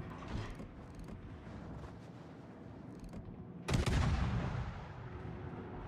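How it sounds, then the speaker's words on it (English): Heavy naval cannon salvos from warships in World of Warships, a booming opening blast followed later by a louder, closer barrage with a long rumbling decay, set against continuous battle noise. "three cannons hit him"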